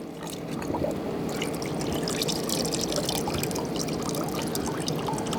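A bear skull dipped and shaken in a container of water to dilute peroxide, giving a steady close sloshing and trickling of water that runs continuously without a break.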